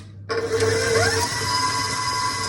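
Electric hand mixer whirring steadily as it beats an egg into cake batter for a sprinkle sponge, starting abruptly after a brief pause and running continuously at close range with a slight pitch shift midway.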